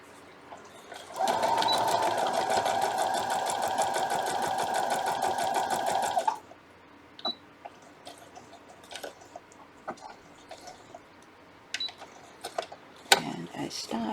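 A sewing machine stitches a dog house quilt block along a seam line in one steady, loud run of rapid needle strokes lasting about five seconds, then stops, leaving faint handling clicks and rustles.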